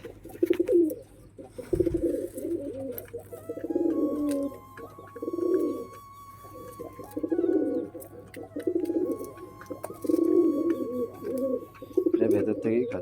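Pet pigeons coo in repeated low, throaty bursts close by, several calls spaced a second or two apart, with a person speaking softly at times and a steady background hum.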